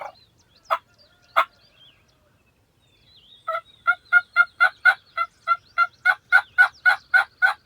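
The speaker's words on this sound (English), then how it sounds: "I've got a gobbler, but I can't tell if he's in this draw or if he's doing this holler" A wild turkey gobbler in Kentucky hill country calls from a distance: a few scattered gobbles, then a rapid, evenly spaced run of sharp gobbling notes growing slightly stronger.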